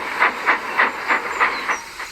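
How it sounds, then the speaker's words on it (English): A small steam tram chuffs along in a quick, even rhythm of about seven sharp exhaust puffs, each wrapped in a hiss of steam, close and clear with no voices. "And he chuffed off to Gordon's Hill."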